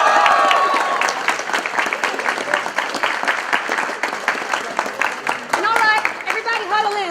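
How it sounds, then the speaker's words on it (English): An audience claps for a coach being handed Texans tickets, giving a sustained round of dense, close applause with voices and cheers rising over it, and a brief burst of livelier shouting near the end. "let's give this man a round of applause."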